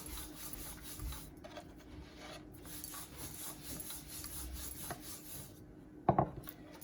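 Rolling pin working paneer paratha dough on a floured surface, a steady soft rubbing and rasping back and forth, close up, ending with a couple of sharper knocks.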